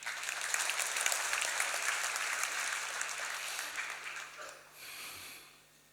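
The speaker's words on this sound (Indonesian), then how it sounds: "Beri tepuk tangan" A church congregation applauds a sermon with dense, steady clapping that carries for several seconds, then thins and fades out near the end.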